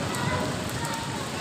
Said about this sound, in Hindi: बारिश रुकने का नाम नहीं ले रही फ़िलहाल